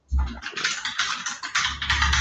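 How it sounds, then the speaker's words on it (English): Rapid, busy computer keyboard typing clatters steadily in the background throughout, with dense bursts of keystrokes and no speech over it. "we got a lot of crazy typing in the background"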